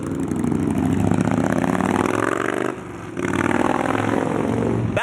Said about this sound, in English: Honda Shadow and the Fat Boy on the Molson Indy track.